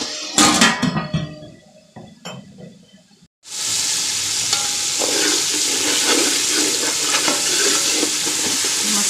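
Masala for matar pulao fries in a pot: a few clattering stirs and scrapes, then a loud, steady sizzle takes over after a few seconds and hisses on evenly to the end.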